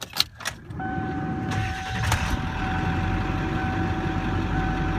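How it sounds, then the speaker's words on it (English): A 1997 Ford F350 truck engine cranks briefly after a few clicks and catches, then settles into a steady, loud idle with a faint whine over the rumble, recorded close by with no talking. "Real quickly, I'm going to fire this thing up"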